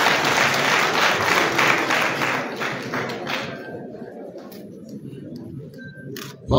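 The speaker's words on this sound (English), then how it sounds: "Clap for Mamuya." A crowd claps steadily for several seconds, the applause thinning and fading out toward the end with a few scattered taps.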